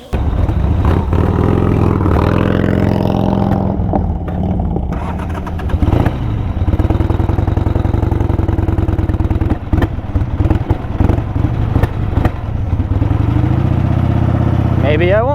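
A Harley Ironhead motorcycle engine with a carburetor fault runs close and loud, revving and idling with uneven sputters and coughs, a few sharp pops breaking through, and someone talking over it.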